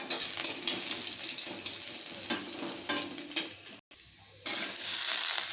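Garlic and black cumin seeds are dropped into hot oil and fry with a loud, close, steady crackling sizzle, which briefly cuts out and then returns brighter and hissier.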